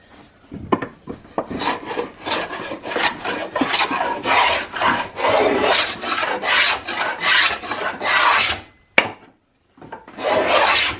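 An in-cannel gouge cuts the wooden barrel channel for a Tennessee iron-mounted flintlock squirrel rifle, giving a rhythmic series of raspy scraping strokes, close and steady, with a short pause and a sharp knock before the strokes resume.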